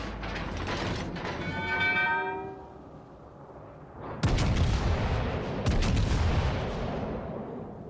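Heavy naval gun blasts from the battleship HMS Warspite in a video game: two loud, booming broadband salvos, the second following about a second and a half after the first, with a rumbling tail and no talking.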